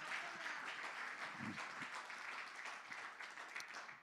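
Applause rises from a church congregation as a steady, moderately distant wash of many hands clapping that holds evenly without breaks.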